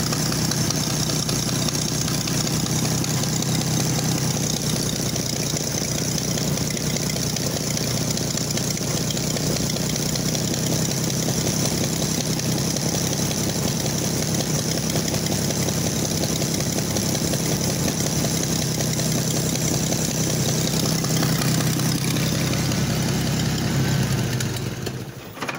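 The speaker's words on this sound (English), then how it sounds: "you can hear that terrible exhaust manifold right there" An old engine that sat 23 years in a barn idles on choke with a leaky exhaust manifold, a loud, steady ticking rumble that holds unbroken before sputtering at the very end.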